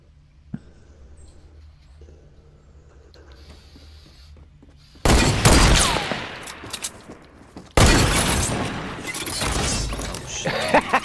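Minigun fire in a video game, two loud sustained bursts of rapid shooting after a quieter stretch of faint background noise, the second burst starting a few seconds after the first.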